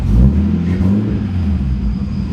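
A car engine revs steadily as the throttle is pressed on a Supra or S13 project car. The sound is a loud, close, continuous low rumble with a steady whir over it, heard alone.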